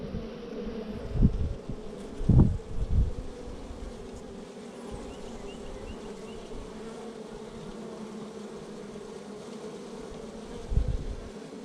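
A steady hum of honey bees fills the air while a new package is installed in Central Texas, the drone constant and close, with a few low thumps and handling knocks early on.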